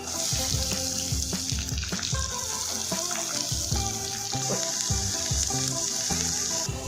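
Steady sizzling of onions frying in a pan, a continuous hiss with faint stirring scrapes, close by and without speech.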